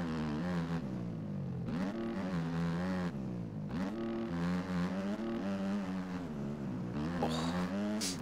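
Motocross bike engine in the MX Bikes video game, a Suzuki revving and dropping repeatedly as the throttle opens and shuts through corners, loud and close throughout.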